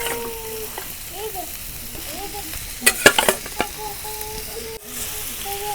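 Meat stir-fried in a pan with boiled vegetables for street-style chicken chowmein, a steady sizzle with a burst of sharp metallic scraping and clatter, while a voice chirps in the background.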